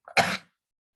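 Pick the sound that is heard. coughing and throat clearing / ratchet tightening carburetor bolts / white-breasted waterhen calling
coughing and throat clearing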